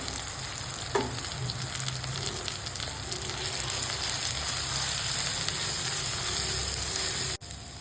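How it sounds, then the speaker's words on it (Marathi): Ground masala paste added to a pan with curry leaves and onions for potato bhaji: continuous loud sizzling and frying with faint stirring scrapes, ending in a brief cut near the close. "आता आपण जे वाटण करून घेतलं आहे ते टाकून घेऊया।"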